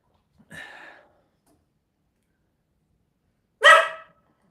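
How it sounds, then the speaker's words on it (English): A dog barks twice close by in a kitchen, separated by a few seconds of silence, the second bark louder and sharper than the first. "Your kitchen barking will not be rewarded."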